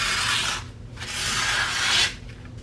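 Paper being torn into strips for paper mache for a cosplay Space Marine pauldron, close-up ripping and rubbing in a few long pulls, with no talking.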